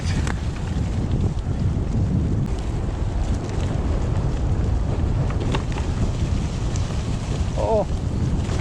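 Strong, gusty wind roars steadily through woodland on forest trails, a dense low rumble buffeting the microphone throughout, with a brief voice near the end.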